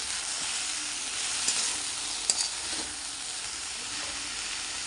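Drumstick leaves and tomatoes fry in a pan, giving a steady, even sizzle close up, broken by a couple of brief stirring clinks.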